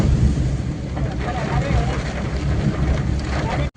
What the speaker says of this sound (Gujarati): જો વરસાદ ને પવન ને બધું હે